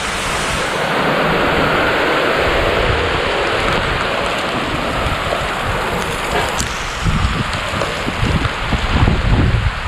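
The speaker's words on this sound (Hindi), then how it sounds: "बहुत ज़्यादा तेज़ बारिश हो रही थी।" Heavy rain pours down in a steady loud wash, growing rougher with gusty bursts toward the end and no voices.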